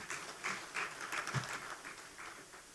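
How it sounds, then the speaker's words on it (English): Applause from a gala audience at Sandals Grande comes as a faint, patchy scattering of claps, uneven and thin rather than a full ovation. "Please give them a round of applause."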